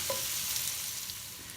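Onions frying and softening in a pan, a steady close sizzle and crackle with no talk.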